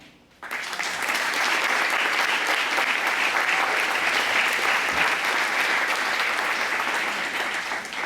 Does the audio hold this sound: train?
no